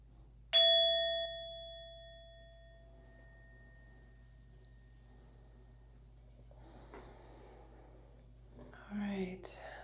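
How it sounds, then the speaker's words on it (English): A meditation bell struck once to open a yoga session gives a bright, clear ding that rings on and fades slowly over a few seconds, followed by faint breathy whispering. "So I'll ring the bell"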